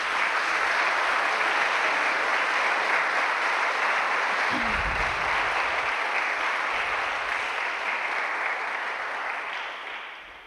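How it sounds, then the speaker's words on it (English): An audience at the 2023 Hubert Van Der Spuy National Music Competition applauds the participants and their teachers, a long steady round of clapping that thins and fades near the end. "Please give all our participants and their teachers a big round of applause."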